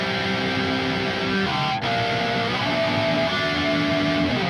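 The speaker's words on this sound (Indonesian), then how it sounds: "ini adalah suara gitar yang sudah jadi, di mana gitar masuk ke dalam amplifier, keluar di kabinet." Electric guitar played through an amplifier and speaker cabinet, sustained chords ringing with a full, slightly driven tone, a brief break near the middle before the chords resume, steady and close.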